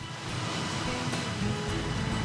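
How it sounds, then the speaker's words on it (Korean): Sea waves wash steadily along the East Sea coast near Gyeongju in a continuous broadband rush, with a slightly louder surge toward the end and no voices. "철석이는 바다의 속삭임을 가까이에서 들을 수 있는 이 길은 천연 기념물을 품고"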